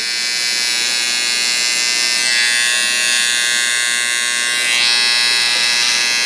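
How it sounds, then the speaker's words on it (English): An electric foil shaver buzzes steadily and loudly up close during a barber's mid skin fade haircut, a continuous dense whine with slight swells in intensity and no talking. "so I can move right to my foil shaver"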